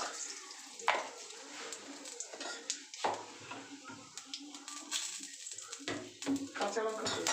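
Bay leaf and black cumin (kalo jeera) tempering in hot oil for a koi fish and cauliflower curry, a light crackling sizzle mixed with scattered utensil clinks while someone speaks over it.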